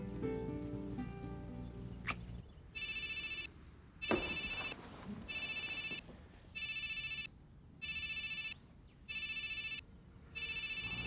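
Telephone ringing in repeated electronic bursts of steady tone separated by short gaps, preceded by some brief music and a sharp knock, fairly close and clear.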